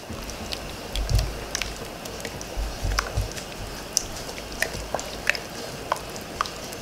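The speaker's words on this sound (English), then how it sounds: "now we'll add the cornmeal with the mixture and keep stirring to prevent" Cornmeal is stirred into coconut milk for cou cou over medium heat, giving soft, wet squelching and gentle scraping strokes at close range with a few light clicks.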